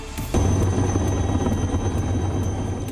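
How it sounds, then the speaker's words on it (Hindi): An army helicopter on a rescue mission in the remote terrain of Arunachal Pradesh thumps steadily with rapid rotor chop and a high turbine whine, loud and close throughout with no talk. "और हेलीकॉप्टर की मदद से अरुणाचल प्रदेश के दुर्गम इलाकों में फंसे जवान का रेस्क्यू किया।"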